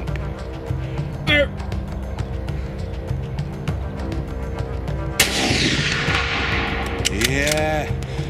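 A single sharp rifle shot during a roe buck hunt in Poland, a loud nearby crack midway through that rings out and fades over a low vehicle-like rumble, with brief talk nearby.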